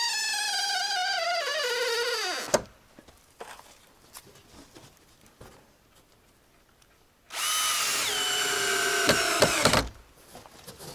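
A power drill whines up and slows as it drives screws into logs, then a pause with light tapping and handling, then a second long drill run.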